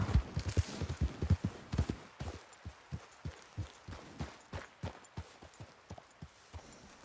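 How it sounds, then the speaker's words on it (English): Horse hooves clip-clop in a steady, uneven rhythm of sharp knocks that stay fairly close throughout, with no talking. "Hey, control that horse!"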